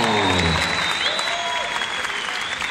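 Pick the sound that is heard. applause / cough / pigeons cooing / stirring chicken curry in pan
applause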